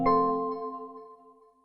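Windows 8 startup chime: a single soft struck tone with layered harmonics, opening on a brief attack and then fading slowly over under two seconds, heard alone.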